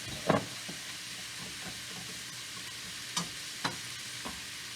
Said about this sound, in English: A good heaping tablespoon of brown sugar. And let that just saute there.